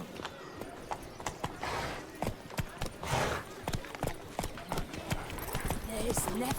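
Horse hooves clip-clopping at a quick, steady pace in The Witcher 3 video game, with a rider urging the horse on and other voices talking over the hoofbeats.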